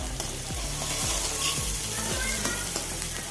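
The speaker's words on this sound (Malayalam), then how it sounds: "ഒരു വലിയ സവോള അരിഞ്ഞത് ചേർത്ത് കൊടുക്കുക ഒന്ന് ഇളക്കി കൊടുക്കുക" Chopped onion frying and stirred in a pan for Kerala-style beetroot thoran, a steady loud sizzle broken by repeated scraping strokes of the spoon about every half second, with no talking.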